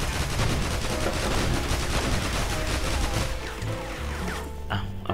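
Rapid, dense gunfire from the video game Guns Gore and Cannoli 2, loud and continuous bursts of automatic weapons and explosions filling the whole clip, easing slightly near the end.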